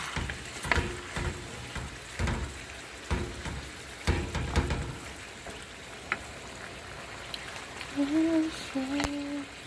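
Chicken curry with spices and soy sauce sizzles and fries in a pan, steady crackle close by, with a few scraping clatters of a utensil and short tonal bleeps near the end.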